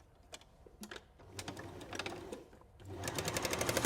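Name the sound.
sewing machine stitching fabric weight seam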